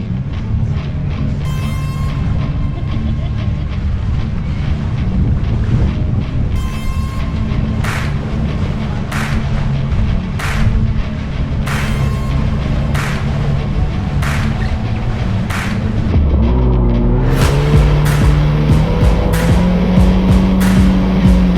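A motorboat cruises across open water near Miami, its engine drone steady and loud throughout with wind and hull noise, and a deeper rumble rising in pitch near the end as the boat speeds up.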